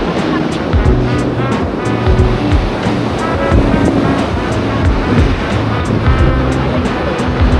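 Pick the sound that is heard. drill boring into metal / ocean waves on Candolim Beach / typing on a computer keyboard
ocean waves on Candolim Beach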